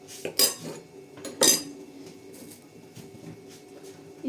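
A pot lid clatters down onto a pot of young goat meat set to stew, two sharp metallic clanks close by, followed by a lower ongoing kitchen bustle.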